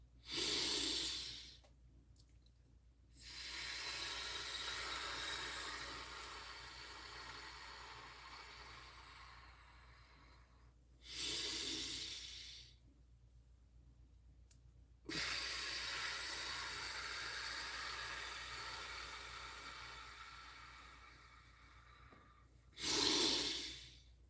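Slow, deep breaths come close to the microphone: three long airy inhales or exhales separated by quiet pauses, with a fourth beginning at the end.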